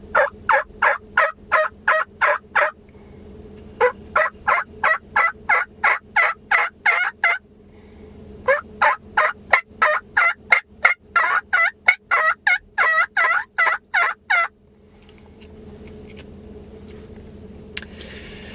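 A handheld turkey call imitating a wild turkey near roosting areas on a hunt, giving two long runs of crisp, evenly spaced yelps, close and clear, with a brief pause between the runs and quiet afterward.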